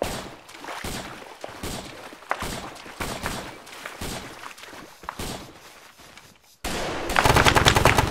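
Enemy machine gunner in Arma 3 (MACV-SOG Vietnam mod) firing repeated bursts of automatic gunfire at around 100 meters on the right flank, sharp rhythmic volleys throughout, ending in a louder dense burst.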